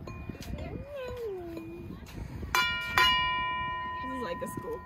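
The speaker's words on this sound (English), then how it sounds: "A school bell." A school bell rings twice in short, bright strikes with a lingering ring, heard at a park over outdoor background noise, with birdlike chirps and distant voices around it.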